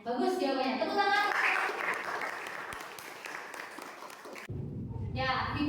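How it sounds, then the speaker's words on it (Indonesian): Students in a classroom clap for a classmate's answer, a short burst of applause mixed with talking voices that gives way to an adult speaking. "Tepuk tangan."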